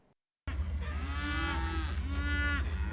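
Cattle on a Texas ranch, two long drawn-out moos from a nearby cow, loud and clear over a steady low rumble, with no voices.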